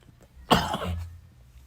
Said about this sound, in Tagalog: Naks, inuubo pa ako